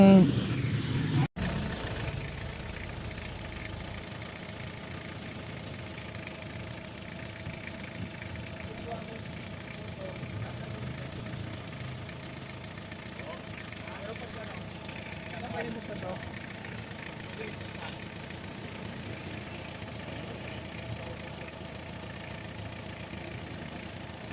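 A freshly restored car engine, just through a general overhaul, idles steadily and evenly at close range for a long stretch, with a brief clunk at the start.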